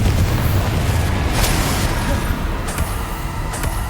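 A loud, rumbling blast from the Confringo blasting curse in Hogwarts Legacy, a sustained booming roar with a sharp crack near the middle and further bursts, heavy and close.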